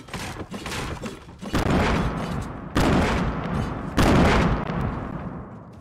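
Loud bursts of gunfire from a Fortnite 50 v 50 match, three heavy volleys roughly a second apart, each blasting broadband and decaying into rumbling echo, with no talking.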